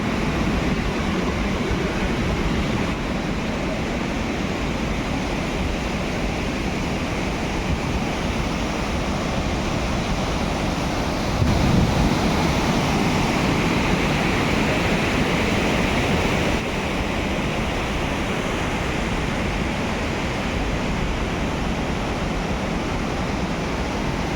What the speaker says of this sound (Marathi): काचेच्या खाली आपण पाणी सुद्धा वाहताना पाहू शकतो